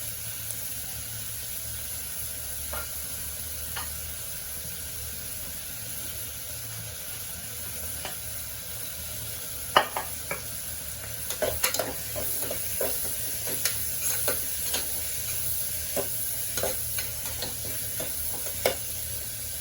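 Onions sautéing in a pan for a tomato kurma, a steady low sizzle with occasional sharp stirring scrapes and clicks of a spoon against the pan, close and unaccompanied by voices.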